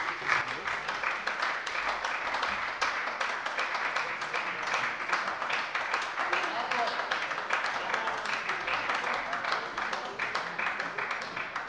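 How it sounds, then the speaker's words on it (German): Steady applause fills a German parliament plenary chamber after a speech, many hands clapping continuously at a fairly even level. "Nicht, dass Sie erschrecken bei so viel Beifall"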